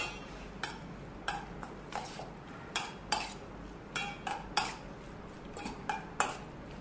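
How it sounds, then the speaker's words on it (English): Spoon scraping and clinking against a bowl while a calamari stuffing mixture is stirred, giving irregular, fairly close metallic taps and scrapes over a quiet background with no talk. "Ανακάτεμα."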